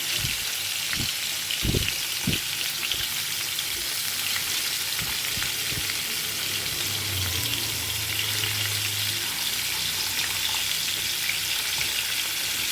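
Large pieces of paneer fry in hot oil with a constant soft sizzle, and a few sharp clunks and stirring knocks come early on.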